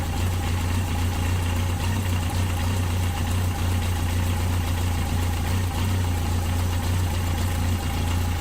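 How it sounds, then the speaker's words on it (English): A Yamaha XJ 900 F engine idles steadily during carburettor synchronising, a constant low mechanical hum and vibration close up with no voices. "you can hear the engine noise just changes a bit"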